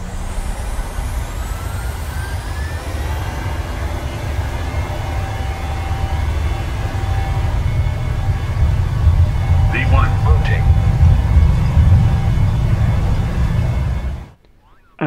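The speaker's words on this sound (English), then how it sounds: "We're now ready to go, so let's throttle up and start the flight." Boeing 737 jet engines spool up steadily for takeoff in the MSFS flight simulator, a loud continuous roar with rising tonal whine that holds for about fourteen seconds before cutting off abruptly.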